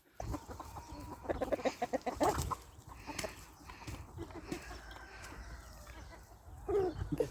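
Chickens cluck and squawk nearby in a noisy outdoor setting, with scattered bursts of other farmyard sounds and no clear speech.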